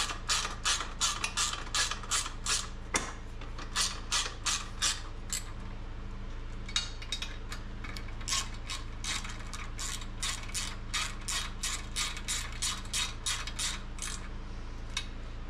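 A hand ratchet clicks in quick, even runs while tightening the subframe bolts on a 2.0 FTR1200 motorcycle, close and crisp with short breaks between strokes and no speech.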